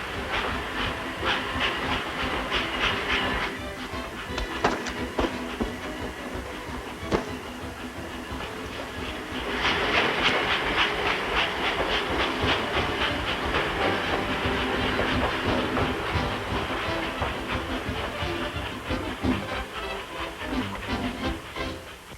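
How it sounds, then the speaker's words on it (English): A steam train passes with a loud, continuous hiss and rhythmic clickety-clack of wheels, growing louder midway and staying steady for over twenty seconds. "The train! The train!"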